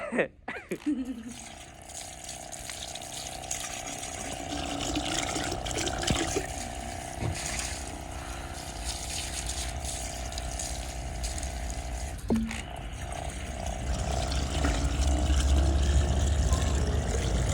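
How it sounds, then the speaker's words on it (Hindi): Water gushing strongly from a pipe or tap into a container, a continuous rushing flow with a steady pump-like hum that grows louder toward the end, with people talking at moments. "तकड़ा पानी आता है इसमें भी।"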